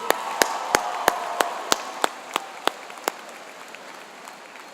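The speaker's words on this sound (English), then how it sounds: "Let's give them another round of applause." Sparse handclaps at a 2016 high school graduation ceremony, about a dozen distinct claps at a steady, slightly slowing pace that fade toward the end over quiet room hiss.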